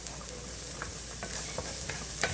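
Peppers and ground beef frying in a pan over medium-high heat, with a steady close sizzle and scattered clicks of a utensil stirring and scraping, no voices.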